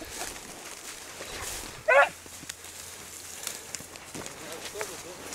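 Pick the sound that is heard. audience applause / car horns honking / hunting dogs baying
hunting dogs baying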